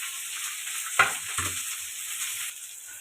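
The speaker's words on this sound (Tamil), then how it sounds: "வெங்காயம் நல்லா வதங்கட்டும்." Onions and green chillies sauté in hot oil with fennel seeds for a potato kurma, a steady bright sizzle broken by two quick clattering stirs near the start, then settling back to an even fry.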